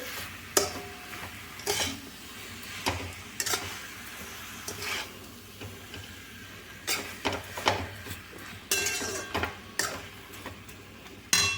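Sugar stirred into a tomato chutney in a pan, heard as repeated scraping and clacking spoon strokes in an uneven rhythm over a faint sizzle, close and continuous with no talk.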